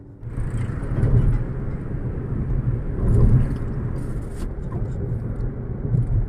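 Maruti Suzuki Ignis car driving on the road, heard from inside as a low steady engine and tyre rumble that swells twice, with faint higher road noise above it and no clear talking.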